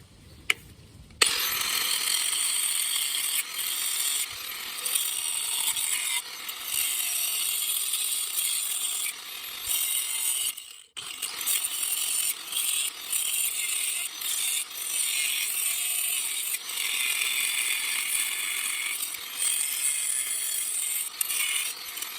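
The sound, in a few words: power tool with cutoff wheel cutting metal outdoors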